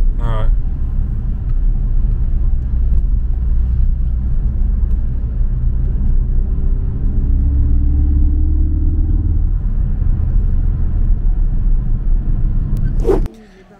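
Citroën C6 engine, tuned for over 100 Nm of extra torque, rumbles deep and steady close by for about thirteen seconds before cutting off abruptly.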